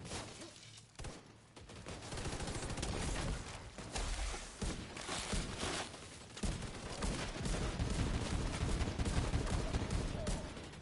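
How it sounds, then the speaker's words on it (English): Shotgun fire in a video game comes as a fast, heavy volley of booming blasts, dense and continuous under a loud battle din, with speech faintly mixed in. "That shotgun sounds beautiful."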